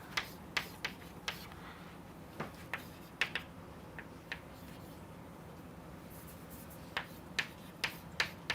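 Pen strokes while writing during a linear discriminant analysis lecture, quiet scattered taps and short scratches in irregular clusters, close by, with no talking.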